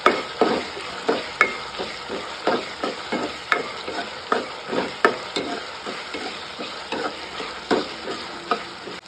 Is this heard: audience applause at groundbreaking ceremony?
no